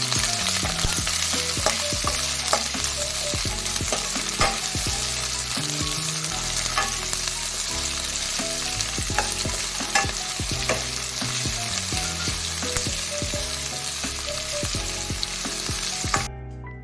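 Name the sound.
onion and capsicum frying in a pan for Gobi Manchurian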